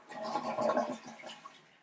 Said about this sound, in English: You can be the first person to flush it, and then we'll look for leaks.